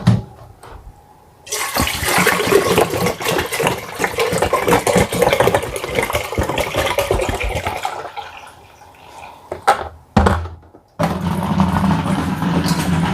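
Water gushes loudly and continuously from a large water gallon into a cooking pot, with a brief pause and a short break near the end before the pouring resumes.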